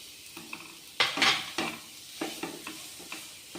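Grated carrot, grated cabbage and mashed potato are stirred in a hot pan, giving a soft sizzle and a few sharp spatula scrapes and clinks against the metal, up close.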